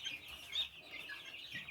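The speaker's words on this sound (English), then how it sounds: "There's Rhett's chicken." A chicken clucks close by in a short burst of bright, repeated clucks and squawks, with no talking over it.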